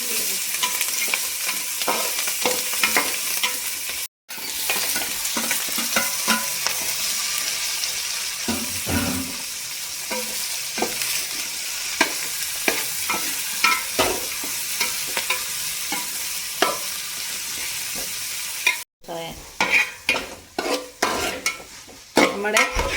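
Onion, green chili and curry leaves frying in fat for a toddy-shop style fish curry: a loud, steady sizzle with constant stirring, two brief cut-outs, then a run of pan clatters and knocks at the end.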